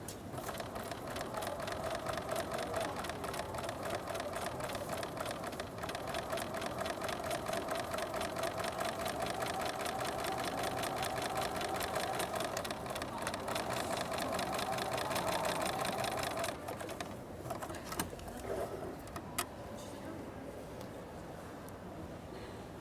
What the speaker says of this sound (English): take it to the machine and stitch it again